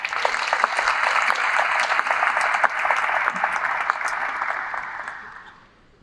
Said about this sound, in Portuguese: Então eu pediria uma salva de palmas para ele.